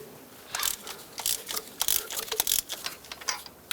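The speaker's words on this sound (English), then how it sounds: "To replace this spark plug, use a spark plug socket and break it free." A spark plug socket on a ratchet breaks a spark plug free in a Chevy HHR engine, giving a run of quick, crisp clicks and metallic snaps in short bursts, close up with no talk.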